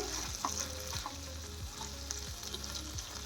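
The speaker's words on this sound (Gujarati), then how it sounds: "ગેસની ફ્લેમને ધીમી રાખવાની છે અને સાતડી લેવાના છે સોસને" Gentle, steady sizzling of sauce in a pan on low flame, with a low background hum and occasional soft stirring.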